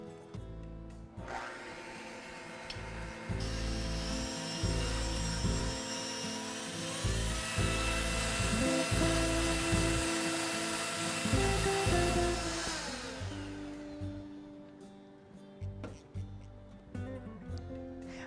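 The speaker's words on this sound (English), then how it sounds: "with my handheld electric mixer, you don't need a big stand mixer to make a coffee cake. I'm just going to cream together these ingredients" A handheld electric mixer creams butter, sugar and eggs for a coffee cake batter, whirring steadily and loudly at close range for about twelve seconds before winding down, followed by quieter bowl clatter.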